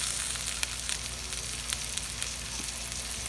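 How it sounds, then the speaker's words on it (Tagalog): Onions and tomatoes sauté in a pan for a monggo dish, giving a steady, close crackling sizzle with scattered sharper pops and occasional stirring, with no talking. "mas gusto ni nanay yung lutong-luto yung kamatis, so gisa pa natin yan."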